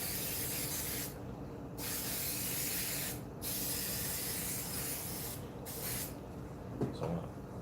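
A spray can hisses in several bursts at close range, separated by short pauses, with light rubbing and handling noises in between and toward the end.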